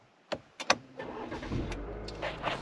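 A 2023 Cadillac CT4 sport sedan engine cranks with a few sharp clicks and catches on push-button start, settling into a steady low idle heard close up inside the car.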